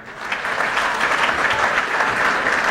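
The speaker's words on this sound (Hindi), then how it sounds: "कृपया आप अपने लिए एक बार ताली बजाएं।" Audience at a youth expo in Khagaria, Bihar, clapping for themselves: dense, loud crowd applause filling the room, steady and continuous from start to finish.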